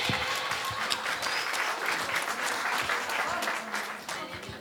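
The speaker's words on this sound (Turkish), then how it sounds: "Bir alkış alabilir miyiz?" Guests at a wedding celebration clap in sustained, even applause that fills the room and dips slightly near the end.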